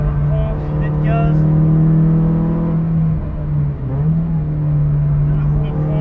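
A Honda CR-Z race car on the Ledenon circuit, its engine droning loud and steady close by with a slight dip and pickup as the throttle is eased back on, running continuously throughout.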